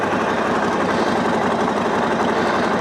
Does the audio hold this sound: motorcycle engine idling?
yes